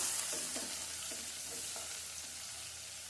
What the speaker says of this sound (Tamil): பெரிய வெங்காயம் சேர்த்துக்கலாம். சேர்த்துட்டு இது எல்லாம் பொன்னிறமாக நல்லா வதங்கி வரணும்.